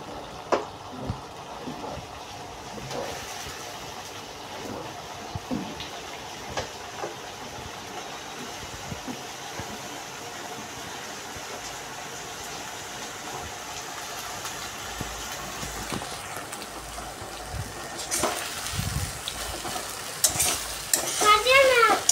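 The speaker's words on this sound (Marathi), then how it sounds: "चला बस आपण टाकूया नूडल्स" Noodles stir-fried in a pan with soy sauce and red chilli sauce, a steady sizzle with scraping stirs throughout, growing louder and busier toward the end with clattering utensil strokes.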